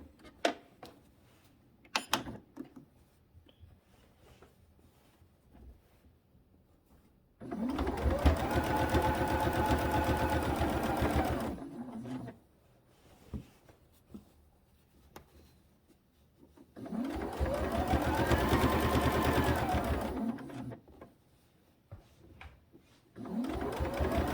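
A sewing machine stitches quilt binding in two sustained runs, each several seconds long with a steady whirring motor, separated by quiet pauses filled with small handling clicks and rustles, up close.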